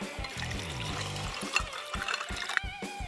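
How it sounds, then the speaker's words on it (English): Pink lemonade poured from a container into cups, several short splashing pours with gurgling fill sounds separated by brief pauses, close and fairly quiet. "and pour it into cups."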